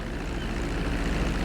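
Airplane engines drone steadily during a landing approach in GTA V, a continuous propeller-plane hum holding at an even, fairly loud level throughout.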